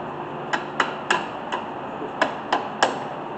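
Seven sharp metallic hammer knocks, spaced irregularly and close, as brake parts are driven out during a front brake and rotor job on a 2002 Chevrolet Cavalier.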